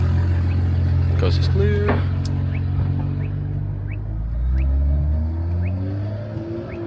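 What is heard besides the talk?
loud BMW M car engine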